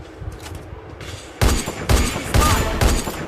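Loud gunshots ring out in a shooting video game, four heavy blasts at roughly half-second intervals after a quieter opening.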